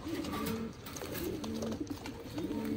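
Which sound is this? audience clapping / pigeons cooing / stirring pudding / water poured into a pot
pigeons cooing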